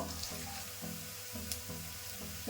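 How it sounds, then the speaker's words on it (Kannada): Chopped onion with curry leaves frying in hot oil for a Kannada ridge gourd ennegayi dish, giving a steady, close sizzle with faint stirring scrapes and no talk. "ಒಂದು ಈರುಳ್ಳಿ ಸಣ್ಣ ಕಟ್ ಮಾಡ್ಕೊಂಡಿದ್ದೀನಿ, ಅದನ್ನ ಹಾಕೊಳ್ತಾ ಇದ್ದೀನಿ."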